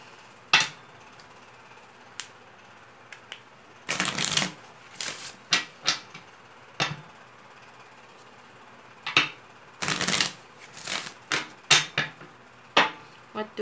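Tarot cards being shuffled by hand, with bursts of riffling and flicking that come in uneven clusters and short slaps between pauses, close and fairly crisp, with no talking.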